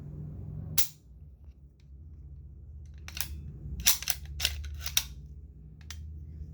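Mechanical clicks from a Mac-style firearm's trigger breaking and resetting, a cluster of sharp close clicks spaced through a quiet room with faint low hum, no talking.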